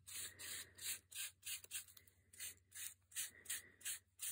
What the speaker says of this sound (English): I can go in a buffing kind of round motion.